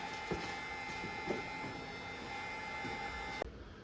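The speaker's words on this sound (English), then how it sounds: "Mine just hooks up to this angle grinder on the air hose" A pneumatic angle grinder fitted with a stripping disc runs on an air hose at an arcade cabinet restoration, giving a steady, close, high-pitched whine with faint scraping bumps that cuts off abruptly near the end.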